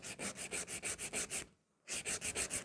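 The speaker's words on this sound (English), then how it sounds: "So I'm just filing those free edge, side walls." Gel nails are filed into a coffin shape along the free edge and side walls, a steady rhythmic rasp of about fifteen close, even strokes with a brief pause midway.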